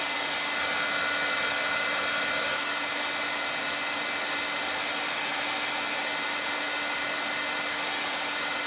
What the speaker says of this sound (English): let me hit this with a dryer